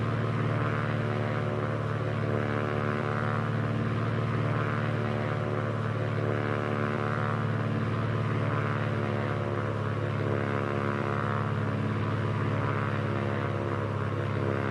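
Steady droning propeller aircraft engine in Microsoft Flight Simulator 2024 on a landing approach, a continuous loud hum with strong low harmonics and no pauses.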